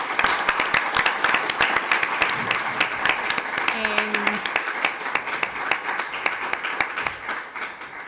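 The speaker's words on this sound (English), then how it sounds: "give a big round of applause to the management team" A conference audience at a digital diplomacy panel gives sustained applause for the management team, steady close clapping throughout with a brief voice rising over it midway.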